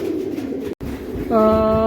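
Pigeons coo in a low, repeated call near the ground, heard after a brief gap in a continuous murmur of birds and movement.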